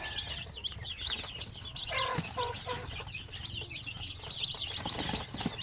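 Chickens of mixed breeds on a backyard poultry farm cluck and squawk continuously, with bursts of wing flapping close by and a busy, crowded flock chorus throughout.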